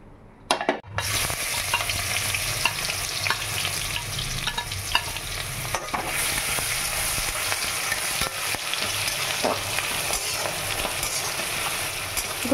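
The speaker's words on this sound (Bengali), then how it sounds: "আর এখানে পেঁয়াজ, কাঁচা লঙ্কা, আদা সব দিয়ে দেবো।" Onion, green chilli and ginger fry in refined oil in a pan. After a brief clatter they hit the oil and set off a loud, continuous close-up sizzle with scattered crackles.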